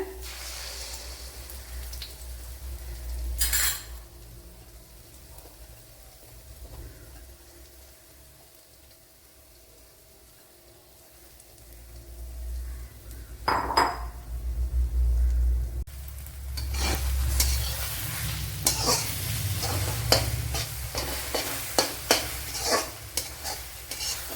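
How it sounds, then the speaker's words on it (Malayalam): Beaten egg for Kerala-style egg thoran goes into a hot pan, and a faint hiss swells into loud, steady sizzling with frequent scraping stirs. A few isolated clinks come before it, and no one speaks. "ഇതിലേക്ക് ഇനി ഈ എഗ്ഗിനെ എടുത്തൊഴിച്ചു കൊടുക്കുക"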